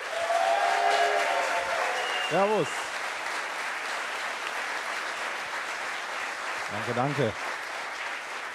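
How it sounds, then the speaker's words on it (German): Loud, sustained audience applause at a German sports TV show fills the whole stretch while someone briefly speaks over it twice. "Einen großen Applaus bitte"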